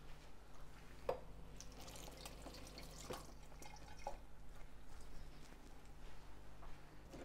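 Mini loaf cake tins get a quick rinse under running water in a home kitchen, with a steady low wash of flow and a few sharp metallic knocks and drips as the tins are handled, fairly close.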